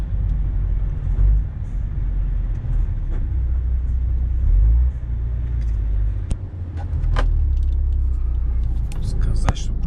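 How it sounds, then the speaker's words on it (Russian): A car comes down a slope toward a waiting vehicle on a Russian road, its low rumble rising and falling through the clip under steady engine and road noise, with quiet voices and a few sharp clicks. "Сверху машина идет."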